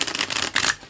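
Tarot cards being shuffled by hand, giving a steady papery riffling and rustling that runs for about a second, close and fairly loud, with a brief swell toward the end and no talking.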